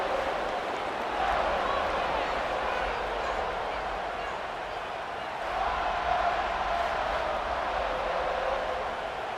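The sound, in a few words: stadium crowd in video game EA Sports College Football 26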